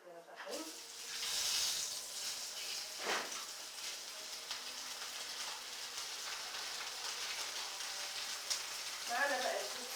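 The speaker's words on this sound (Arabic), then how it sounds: "هنزل بقى بالسمك بتاعي كده اهو" Stuffed mackerel fries in hot oil with a continuous crackling sizzle, fairly quiet and close, broken by a few brief clinks and handling sounds.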